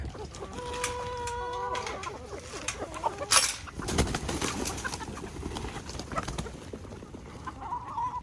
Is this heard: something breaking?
no